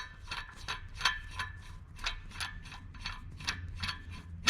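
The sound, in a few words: wrench tightening nut to press new wheel stud into truck hub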